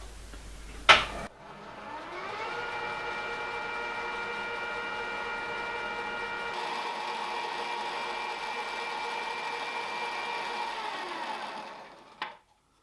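Milling machine taking a 0.1 cut with a cutter through a cylinder part for a 5-inch gauge Lion locomotive model: a steady, sustained tonal whine with harmonic hum running about ten seconds after a sharp click, then stopping.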